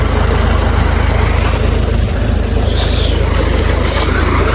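A tractor engine idling slowly beside a water channel on a farm, a loud, close, steady low rumble that runs unbroken through the whole stretch with no talk over it.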